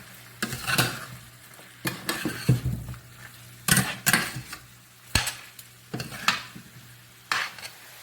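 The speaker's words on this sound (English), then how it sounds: "it gives a sort of frying process at the bottom" Chicken stew stirred and scraped in a pot with a low frying sizzle underneath, in several short bursts separated by pauses; close and fairly quiet, no talking.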